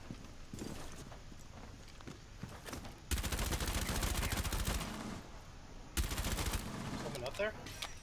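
Gunfire in Rainbow Six Siege, shooting a hole through a wall in a house map: two loud bursts of rapid automatic fire, each lasting a few seconds, separated by quieter game ambience, with a voice talking.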